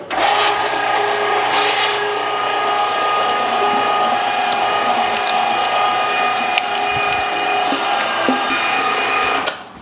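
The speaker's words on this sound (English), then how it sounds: "I'm using a foot pedal to operate my grinder" A meat grinder switched by a foot pedal runs steadily, grinding birria snack stick meat into a coarse grind, a loud continuous mechanical whir with gear whine and small clicks for nearly ten seconds.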